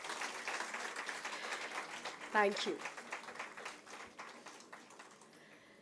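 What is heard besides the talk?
ceremony audience applause for winners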